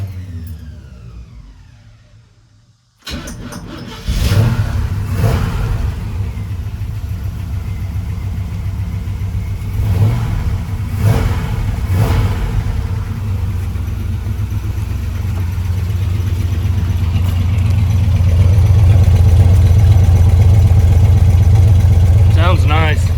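A freshly restored 1972 Chevy C10 Cheyenne pickup cranks and fires, then settles into a steady, loud idle with a few blips of revving, the low rumble rising slightly toward the end.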